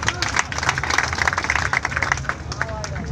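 An audience claps at a Hindi poetry recital held on a Ramlila stage in Banda, giving brisk, uneven rapid claps close by, mixed with crowd murmur and voices throughout.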